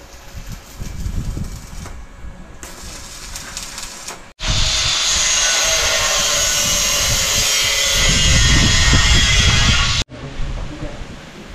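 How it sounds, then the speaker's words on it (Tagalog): Welding on a steel tubular frame, a loud steady crackling hiss lasting several seconds, with talk and workshop noise before and after. "Papalaban na naman tayo sa welding."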